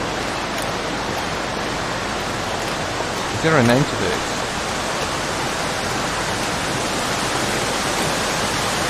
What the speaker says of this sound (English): So yeah, this is the one of the waterfalls, and to the right is the cave.